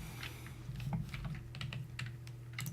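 Computer mouse or keyboard clicks while playing the PC game Theme Hospital: a string of sharp, close, irregular taps over a steady low hum.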